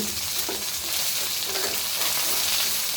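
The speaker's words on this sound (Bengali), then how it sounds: "এই যে এগুলো দিয়ে সুন্দর করে ভেজে তারপরে এই মাছকে" Green chillies fry in a pan ahead of cooking fish, a continuous close hiss and crackle of hot oil holding an even level throughout with no talk.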